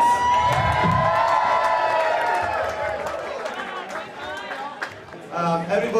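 A crowd at a coming-out party for rugby player Gareth Thomas cheers, whoops and applauds loudly, voices and shouts overlapping in a dense roar that eases slightly toward the end.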